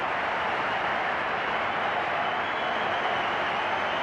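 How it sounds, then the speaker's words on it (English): A cricket crowd at the MCG in Melbourne gives a sustained ovation during a one-day international between Australia and India, a dense, even wash of applause and cheering heard from a distance. "Fabulous ovation from the crowd here at the MCG."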